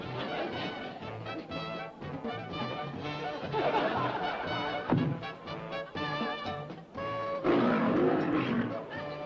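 A person in a lion costume lets out a phony lion roar, a loud, drawn-out growling roar repeated in several bursts that imitates a big cat, with some voices and background sound underneath.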